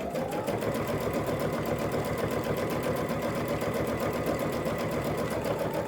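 An embroidery sewing machine at a VIP Luminaire and Solaris event drives its needles into fabric, giving a steady, fast mechanical whirring and rapid repetitive stitching that stays loud and even throughout, with no talk over it.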